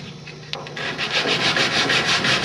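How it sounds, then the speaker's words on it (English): Folded sandpaper rubbing back and forth along a joint on a small wooden boat under construction, a steady scratchy sanding rhythm in repeated close strokes, alone without talk. "So fold the sandpaper and get right into the pan."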